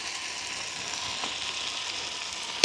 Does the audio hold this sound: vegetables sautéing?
yes